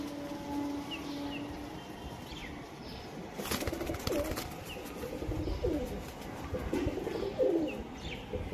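Andhra pigeons coo in soft, repeated low calls over a steady outdoor background, with a few brief chirps and a burst of wing flaps partway through.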